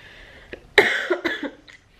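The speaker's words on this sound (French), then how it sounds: "Le souci c'est que je n'arrête pas de tousser." A woman coughs a few times in quick succession, close and fairly sharp, with a throaty rasp and short gaps between the bursts.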